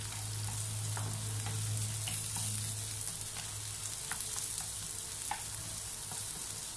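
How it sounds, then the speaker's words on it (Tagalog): Garlic and onion sautéing for ginisang ampalaya, a soft continuous sizzle with occasional small pops and stirring scrapes, fairly quiet and steady, with a low hum underneath. "gigisahin lamang po natin ito hanggang sa lumabas ang aroma ng ating sibuyas at bawang"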